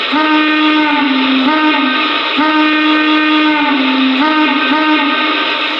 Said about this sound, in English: this engine actually features a ton of really cool sound effects